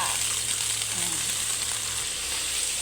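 Mussels sautéing in a pan with ginger and bay leaf, a loud, steady close sizzle that continues throughout without a break.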